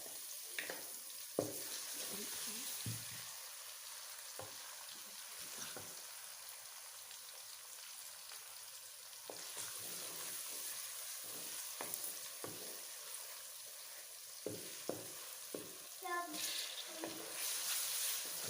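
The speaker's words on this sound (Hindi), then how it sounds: "थोड़ी देर उनको भून लेते हैं ताकि ऑयल के अंदर, घी के अंदर जो अच्छी तरह गल जाए।" Soft, steady sizzle of onions, crushed ginger, garlic and tomato frying in ghee, with occasional scrapes and stirring knocks from a spoon; fairly quiet, no speech.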